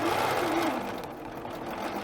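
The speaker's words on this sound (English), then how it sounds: "I'm just going to go ahead and hit the gas pedal and start quilting here." Rapid mechanical whirring of a Bernina B990 sewing machine quilting steadily up close, its pitch shifting slightly as the speed changes.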